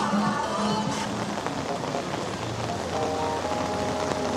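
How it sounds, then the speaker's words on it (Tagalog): Rain falling on a Seoul street in the Jonggak area at dinnertime, a dense steady hiss of drops on pavement with traffic and city murmur beneath, loud and continuous throughout. "Palakas na ng palakas yung rain."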